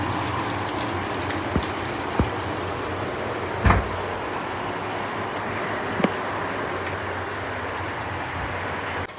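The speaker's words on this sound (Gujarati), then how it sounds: "જોરદાર વરસાદ ચાલુ થઈ ગયો છે" Heavy rain pours down in a constant, dense hiss, broken by a few sharp knocks and drips nearby, with no voices.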